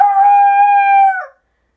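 Dogs letting out a single sustained howl, loud and close, holding one steady tone for about a second before dropping off into silence.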